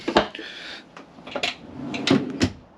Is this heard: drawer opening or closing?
yes